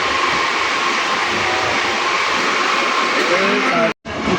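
A passenger train pulls out of a station, heard from inside a carriage as a loud continuous rumble and rolling hum, with faint voices and a brief cut in the sound near the end.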